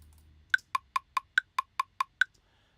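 Software metronome clicks tapped in at a steady tempo: nine crisp, evenly spaced, hollow ticks sounding alone and close, after a faint low hum.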